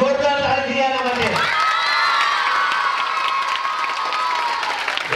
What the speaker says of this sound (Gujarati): એક જોરદાર તાળીયાના માટે